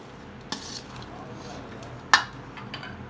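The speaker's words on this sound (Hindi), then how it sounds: "अब इसको मिक्स करना है।" Dahi vada ingredients mixed in a bowl: a spoon clinks sharply against the dish twice, with soft scraping and stirring between, close and fairly quiet.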